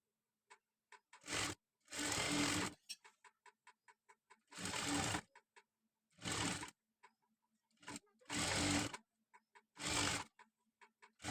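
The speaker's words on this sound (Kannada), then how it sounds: "ಇದನ್ನು ನೀಟಾಗಿ ಫುಲ್ ರೌಂಡು ಒಂದು ಸ್ಟಿಚ್ ಹಾಕ್ಕೊಂಡು ಬರಬೇಕು" Sewing machine stitching a village-style trendy blouse, running in several loud close bursts of rapid needle clatter separated by quiet pauses with faint ticking clicks.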